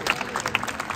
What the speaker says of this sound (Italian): Fa un applauso!